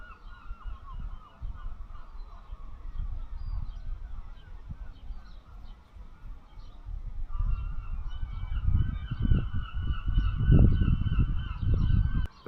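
Seagulls honk and cry at a beach in the early morning, scattered calls at first and then a denser, louder flurry of squawks near the end, over low wind rumble with no talk.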